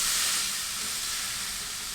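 Rainbow trout laid skin side down on a very hot Aldi Kamado grill at about 250-300 °C, giving a loud, steady broadband sizzle and hiss from the start, with no voices.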